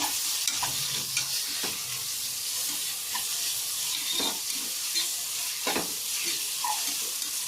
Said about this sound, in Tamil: 2 தக்காளி அதை போடணும். போட்டு நல்லா கிண்டி விடுங்க.